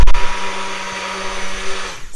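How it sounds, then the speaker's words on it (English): A hand blender purees roast squash and lentil soup, a steady loud motor whine with harmonic drone holding for about two seconds after a brief start, then cutting off near the end. "you can use a hand blender or an immersion blender"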